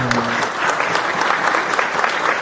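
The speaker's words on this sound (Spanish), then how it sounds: "recibámoslo con un fuerte aplauso" Applause from the audience at a municipal conference as the mayor is welcomed, a dense, loud burst of clapping that runs steadily through the short stretch.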